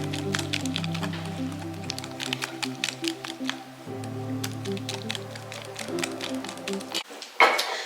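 Mixture being mixed in a bowl gives off soft, irregular clicks and taps close by, with a low musical hum running underneath most of the time.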